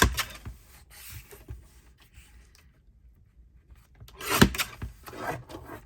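Short scraping and rubbing strokes of paper being trimmed for a journal tag, close and fairly quiet, with a pause in the middle and a stronger cluster of cuts near the end.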